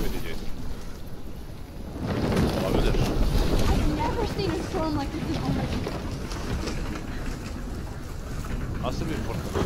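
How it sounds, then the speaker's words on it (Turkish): Storm wind in the video game Life is Strange roars as a loud, steady gale that swells after a quieter opening and keeps blustering, with a voice talking over it. "Nasıl bir fırtına lan? Her şey devriliyor üstüne doğru."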